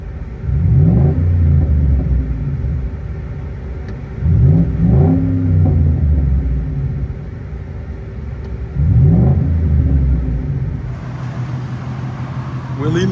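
A deep V8 engine rumble from a 2011 Ford F-150 5.0L pickup with Dynomax Race Bullet and muffler delete, heard from inside, swelling in three repeated revs with steady droning between them.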